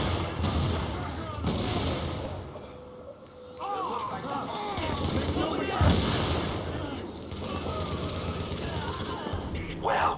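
Gunfire in the video game Tom Clancy's The Division, with repeated bursts and thuds of shots over a busy combat mix. Voices talk over much of it.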